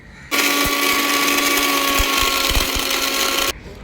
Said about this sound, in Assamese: এতিয়া মই মিচিৰিখিনি মিক্সিত দি গুড়া কৰিম